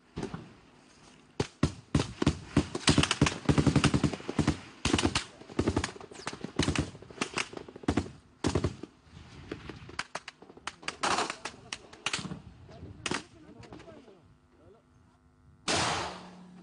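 Gunfire and sniper shots aimed at a TV news team in Syria, heard as a long run of loud, sharp cracks, some in rapid bursts and some spaced apart, with a short gap before a final burst.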